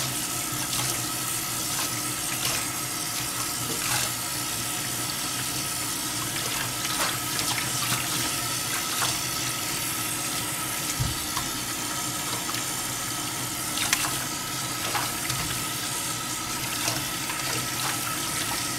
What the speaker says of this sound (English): And let's start wetting up her hair.